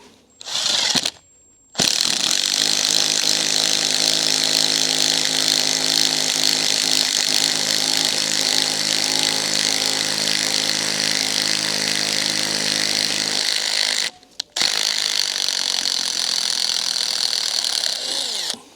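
A power drill drives an auger bit with a 1/4-inch hex shank steadily through wood for about twelve seconds, loud and close, with brief pauses before and after the long continuous bore.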